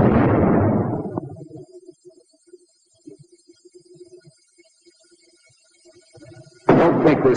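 A WWII bazooka rocket blasts a sandbag emplacement, opening with a loud, rumbling explosion that fades into scattered faint debris sounds and crackles, then a second heavy blast bursts in near the end.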